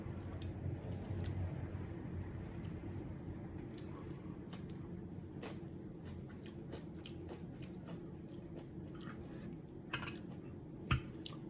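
Close-up wet chewing of kimchi at a meal ending a seven-day water fast, with soft squishy bites and a steady mouth-sound texture, one sharper crunch near the end, no talking.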